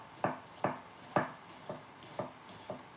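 A knife chopping food on a cutting board during home cooking, six crisp evenly spaced thuds about half a second apart, close and clear with no talk.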